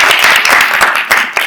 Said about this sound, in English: Give them a big round of applause for putting this together.